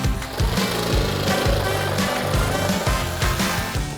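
A power saw cuts a laminate floor plank in two while a floor is being laid, giving a loud, continuous buzzing roar with a steady rhythmic pulsing throughout and no voices.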